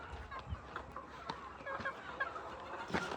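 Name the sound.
country chickens clucking inside farm shed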